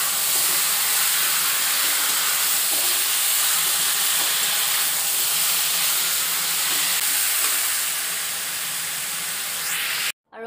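Meat, potatoes and onions frying in a pan give a steady, loud hiss that runs almost unbroken and stops abruptly at the very end.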